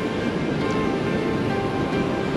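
Ocean waves break on the beach at Double Island as a steady, loud, broadband wash of surf with some wind noise, continuous throughout and without talk.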